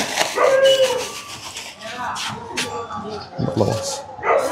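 Dogs bark and yip beside a canal in rural Bangladesh during traditional spear fishing, with short, fairly close barks mixed in among people talking.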